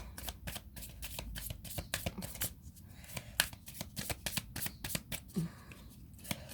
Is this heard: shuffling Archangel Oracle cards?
yes